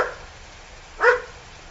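A poodle mix dog gives a single short, sharp bark at close range, with a fainter partial yelp at the very start and quiet background in between.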